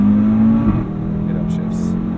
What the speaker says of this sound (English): It should upshift at the red line.